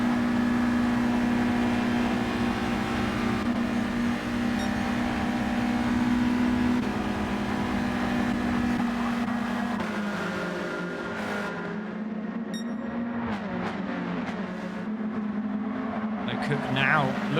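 Race car engines drone in a sim racing game, a sustained steady tone held in fifth gear with a slight pitch shift near the end, running continuously under commentary.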